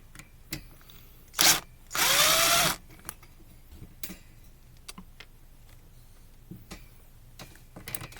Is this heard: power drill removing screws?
yes